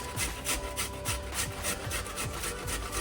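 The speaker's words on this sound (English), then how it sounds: "And then literally all you're going to do is grate them." Firm, freshly delivered fruit rubbed against a hand grater with the skin left on, making steady close-up rasping strokes in a quick, regular rhythm with no talking.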